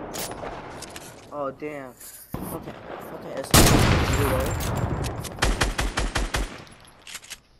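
Assault rifle fire in Fortnite, bursts of rapid shots including a loud sustained volley and a run of quick cracks near the end, with a player talking over it.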